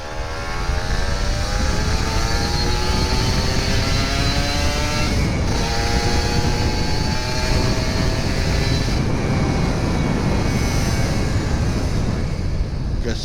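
A Kawasaki Ninja RR 150 two-stroke motorcycle rides off at Senayan in the morning, its engine droning loudly and steadily with rising revs and strong wind buffeting throughout.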